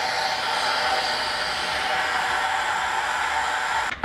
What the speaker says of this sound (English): I'm going to wrap the end of this nozzle up with a rag, put it right in here, and pressurize the tank.